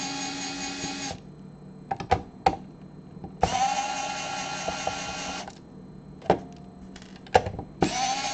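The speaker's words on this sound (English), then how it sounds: "under here there are 4 screws with a Phillips head screwdriver. So I'm just going to undo these 4." Screws being undone with a Phillips head screwdriver inside a NES/SNES Classic console, heard as a string of close clicks and scraping bursts separated by short quiet gaps, with a steady whirring tone under several of them.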